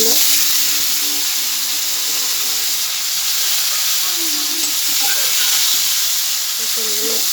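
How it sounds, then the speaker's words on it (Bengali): Pointed gourd pieces frying in hot oil in a kadai make a loud, continuous sizzle with a few soft scrapes of stirring, close up, with no speech. "পটলগুলো একটু ভেজে নেবো।"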